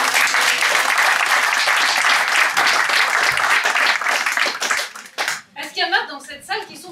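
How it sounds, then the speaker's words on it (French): An improv-club audience at the Avignon festival bursts into loud, dense applause that holds steady for several seconds, then fades into scattered claps and chatter as a performer resumes speaking. "Merci beaucoup à vous, applaudissements."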